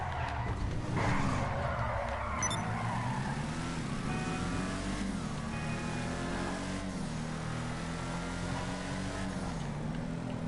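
Car engine in GTA V drives steadily with a shifting, revving drone and tire skids, loud and continuous with no talk over it.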